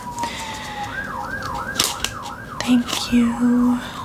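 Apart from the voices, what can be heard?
emergency siren outside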